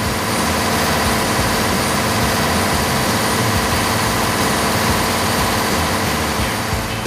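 A fishing boat's engine runs nonstop to power the lamps that lure hairtail at night, a loud, dense, unbroken heavy drone that fills the space with no pauses.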